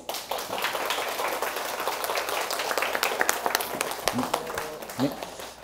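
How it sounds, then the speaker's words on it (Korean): A hall audience claps after a morning-school talk by a company president, with steady sustained applause filling the room and a voice speaking briefly over the end. "고수명 사장님께 감사의 박수 부탁드리겠습니다"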